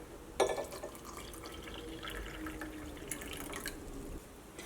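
Water pours into a glass holding a tablespoon of cornflour, a close, continuous trickle that starts with a splash and runs for about four seconds before stopping.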